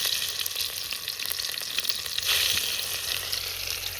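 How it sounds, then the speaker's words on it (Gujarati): Onions dropped into hot oil for masala Maggi noodles, a steady dense sizzle and crackle that stays loud and close throughout, with no talk over it. "આપણું તેલ ગરમ થઈ ગયું છે, આપણે આમાં નાખવાનું છે આપણે કાંદા"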